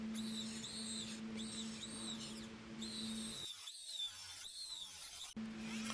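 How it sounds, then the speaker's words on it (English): An oscillating multi-tool fitted with a standard wood-cutting blade cuts into a wooden window frame set in stucco, a loud steady high-pitched whine with harmonic buzz that drops out briefly, then resumes near the end. "So right here I got my oscillating tool with just a regular wood cutting blade."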